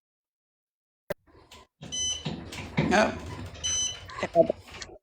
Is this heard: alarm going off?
yes